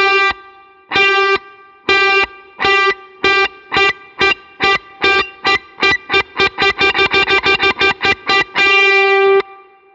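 Distorted electric lead guitar, effects-laden, played with a pick-stopping technique: a long run of sharply cut-off notes with silent gaps, starting slow and spaced, then speeding into a rapid staccato flurry before a final sustained note, loud and close.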